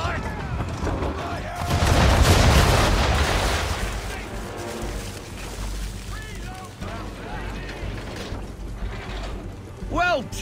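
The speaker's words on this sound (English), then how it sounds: "Bring around broadside, and when all guns are on target, call fire." In the Assassin's Creed III video game, a ship's cannons fire a broadside of round shot, producing a loud rolling burst of booms that fades into creaking and water, with a voice speaking over it.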